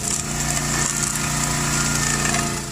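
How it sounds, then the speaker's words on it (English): A County Line 32-ton vertical log splitter working through large logs outdoors, its engine droning loud and steady throughout with a dense mechanical hum and no talking. "The County Line 32-ton vertical log splitter is a beast in the field, slicing through massive logs like a hot knife through butter."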